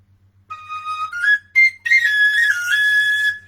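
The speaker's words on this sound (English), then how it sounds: "they are the standard kind of penny whistle" A penny whistle plays a short, bright, slightly breathy melody close up, with a pause between phrases and a faint low hum underneath.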